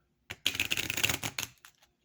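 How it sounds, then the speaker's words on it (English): A small Lenormand card deck riffle shuffled in a quick fluttering burst, followed by a couple of soft taps as the deck settles, close by. "The riffle shuffle"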